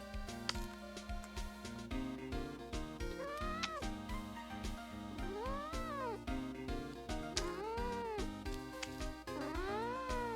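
A cat meows repeatedly, up close, giving several drawn-out rising and falling calls spaced a second or two apart over background music.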